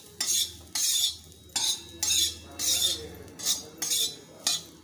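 Sweet corn with chili powder and salt is stirred and sautéed in a pan: about eight rhythmic scraping strokes, close and clear, with brief pauses between them and no voices.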